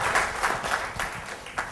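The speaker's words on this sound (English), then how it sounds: "So I want to give you a huge round of applause to welcome them." Applause rolls through a conference hall at a lean management summit as the audience welcomes the speakers, steady clapping for a brief stretch.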